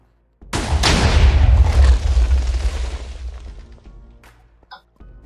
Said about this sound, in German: Nächste Kanone.